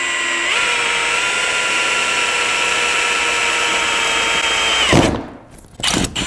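A power drill whirs steadily at close range, its pitch shifting slightly as it bites into metal of an exhaust part from a wrecked Ducati, then winds down followed by a few handling clunks.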